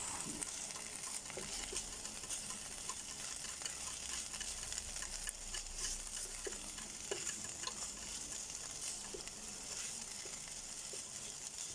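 Beef for German goulash browns in a hot pan, a dense, steady sizzle and crackle close by with scattered small pops and spatters throughout.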